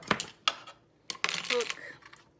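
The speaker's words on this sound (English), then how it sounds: "This little tray, all these little metal bits. I found all of these metal things." Small metal bits and keys clink and rattle in a little tray, a few sharp separate taps followed by a short cluster of jingling, close and quiet.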